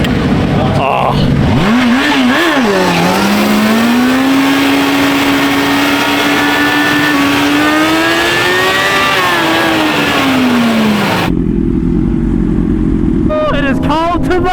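A Yamaha R1 sport bike's engine revs at a nighttime bike meet, a loud sustained rising and falling whine lasting about ten seconds before cutting off, with crowd noise and voices around it.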